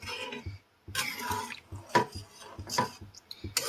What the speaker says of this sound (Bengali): এবার মশলার সঙ্গে ভালো করে আলু আর ছোলাটাকে মিশিয়ে দিতে হবে